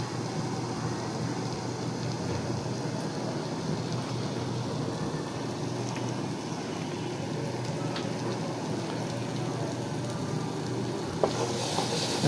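Hilsa fish masala fries in hot oil with a steady, dense sizzle, stirred now and then, close and continuous throughout with a faint scrape near the end.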